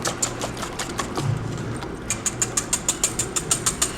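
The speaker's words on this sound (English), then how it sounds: "We'll let the mixer do the work for us." An electric stand mixer whirs steadily as it beats eggs and vanilla into chocolate chip cookie dough, with a regular pulsing clatter that grows more rhythmic partway through, close and fairly loud.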